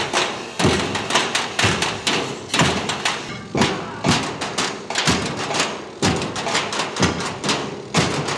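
Metal oil barrels and drums are struck in a steady rhythmic pattern, loud booming thuds and sharp taps repeating in regular bars at a military tattoo rehearsal, with faint voices underneath.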